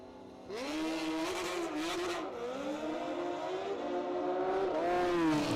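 A Miami-based Hayabusa-powered drag racing machine launches down the strip, its engine screaming loud and close with rising harmonic pitch sweeps through the gears, continuous for several seconds with no talk.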